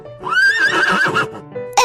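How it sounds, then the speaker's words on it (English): A horse whinnies loudly and close up in a children's alphabet learning game, one long, wavering neigh that rises and then tails off, followed by the brief start of a second call, with no talk over it. "H makes the h sound, like in the word horse"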